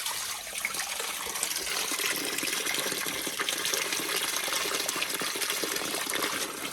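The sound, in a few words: flowing irrigation water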